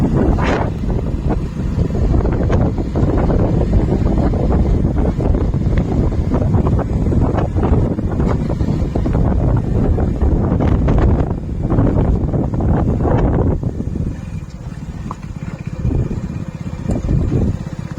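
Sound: strong wind on microphone

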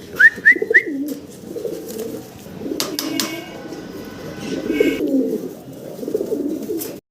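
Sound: male pigeons fighting and cooing

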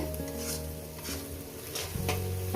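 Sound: frying in a pan

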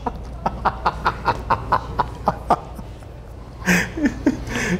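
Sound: comedian imitating a rooster

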